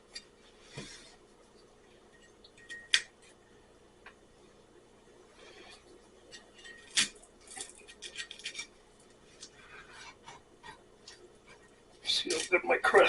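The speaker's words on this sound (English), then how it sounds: "So let's cut this pie." A homemade pie baked in cast iron being cut, with scattered scraping and crunching strokes of a knife through the crust, quiet pauses between cuts and a louder burst of scraping at the end.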